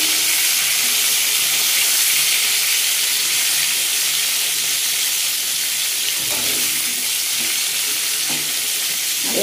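Pieces of pointed gourd (potol) fry in a pan with a steady, close, bright sizzling hiss; a few soft scrapes and stirring knocks come near the end as the pieces are turned.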